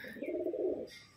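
A pigeon in a loft gives one soft, low, rolling coo, faint and close, with a brief chirp at the start.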